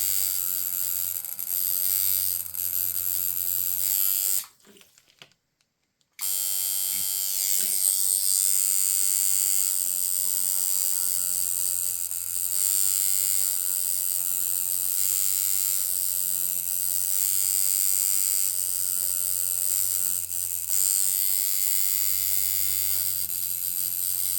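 A handmade tattoo machine running fast, a loud steady electric buzz with a rapid mechanical pulse that cuts out for about two seconds near the start and then runs on continuously.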